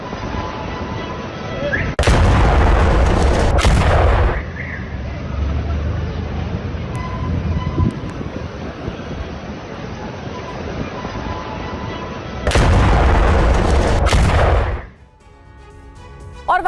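Heavy bombardment explosions in Khan Younis, Gaza, land as two loud, booming roaring blasts separated by a long stretch of lower rumbling background, with voices faintly present.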